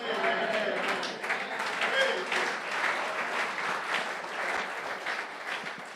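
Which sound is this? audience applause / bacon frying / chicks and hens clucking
audience applause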